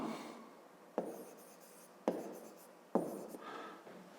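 Pen or pencil writing on paper during a Grade 5 maths exercise, with three sharp tapping strokes at regular intervals between steady scratching, close and alone.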